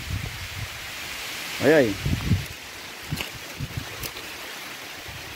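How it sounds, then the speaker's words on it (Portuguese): Rain falling on a house under construction, a soft steady hiss that runs throughout, with someone speaking briefly partway through. "Olha aí, chuva caindo."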